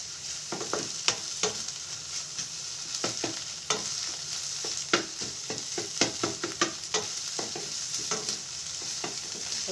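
A shortcut breakfast fries in a pan, a close steady sizzle punctuated by frequent sharp spatula clicks and stirring scrapes, with no voices.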